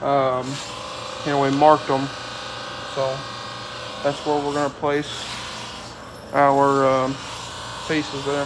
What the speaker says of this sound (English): working on sharpening drill bits, if you can hear that in the background